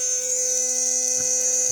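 A Philips Sonicare HX6950 electric toothbrush runs with a steady, continuous high-pitched buzz and hum, close and constant throughout with no talking.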